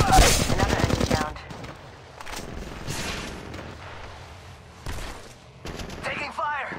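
Rapid automatic gunfire in an Apex Legends match plays on a mobile emulator, a loud opening burst of close rattling shots followed by sporadic sharper volleys and distant pops.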